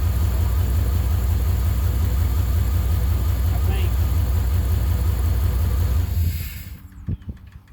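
A truck engine idles with only six injectors connected, a steady low rumble with uneven pulsing that runs loud for about six seconds, then cuts out and fades to near silence.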